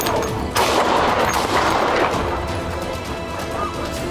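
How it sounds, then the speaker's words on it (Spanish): A police officer fires a gun during an arrest, a sharp loud crack followed by crashing, noisy commotion and lingering rumble. "Un oficial disparó, pero falló."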